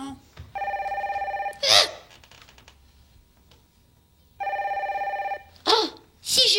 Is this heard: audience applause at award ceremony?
no